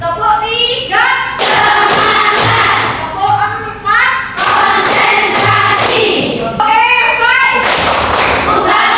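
A classroom of students claps a short rhythm together on a teacher's count, with sharp bursts of hand claps alternating with the teacher's spoken commands.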